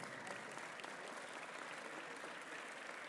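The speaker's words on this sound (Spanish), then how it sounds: "pido un fuerte aplauso" Audience applause at a public forum on bullfighting: a continuous, uniform wash of clapping from a large crowd, heard faintly and steadily throughout.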